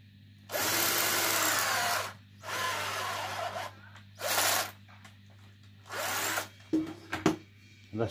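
Power drill widening a hole in wood while building a dough press, in four loud, sustained bursts of whining bit and grinding chips separated by short pauses, followed by a few clunks.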